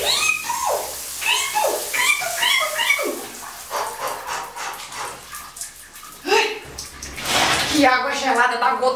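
Water pours and splashes during a cold bath in a house without electricity, a steady hiss running beneath cat-like vocal sounds and bursts of activity throughout.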